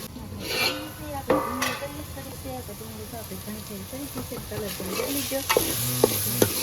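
Sea snails (falva) fry with onion in oil, sizzling steadily while a spoon scrapes and stirs at intervals; a person talks over the cooking throughout.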